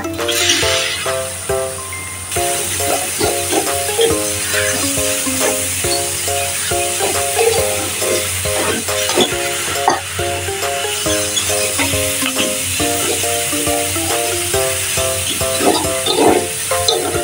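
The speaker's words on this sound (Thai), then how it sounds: "แล้วก็ใส่สามชั้นที่เราหั่นไว้นะคะ" Sliced Thai pork belly stir-frying in a hot pan with crushed black pepper for a spicy basil stir-fry, steady loud sizzle with repeated scraping and stirring strokes, over a bright melodic music backing throughout.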